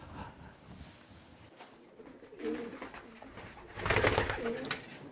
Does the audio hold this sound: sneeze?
no